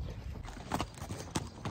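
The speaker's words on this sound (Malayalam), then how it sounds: "ഞങ്ങളിപ്പോൾ കുതിരപ്പുറത്താണ്." Horse hooves clip-clop during a horse safari in Cappadocia, a few uneven hoof strikes on the ground over outdoor background noise.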